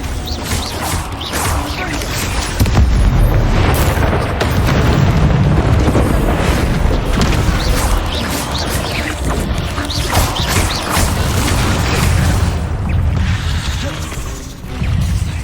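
Repeated Confringo blasting spells explode in Hogwarts Legacy, a dense, loud run of booming bursts and crashes rolling continuously across the stretch, with brief sharper impacts scattered throughout.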